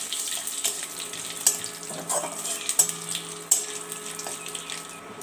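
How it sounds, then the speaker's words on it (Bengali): Dried red chillies and whole cumin seeds fry in hot oil in a pan, giving a steady, close sizzle with soft crackles and a few sharp pops along the way, and no talking. "তেলটা গরম হয়ে গেছে, এর মধ্যে আমি দিয়ে দিচ্ছি 2টো শুকনো লঙ্কা, গোটা জিরে"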